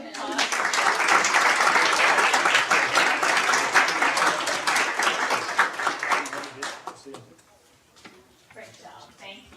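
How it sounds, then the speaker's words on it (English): Applause from a small audience at a board meeting, dense steady clapping for several seconds that thins into scattered individual claps and fades out, with faint voices underneath. "Another round of applause."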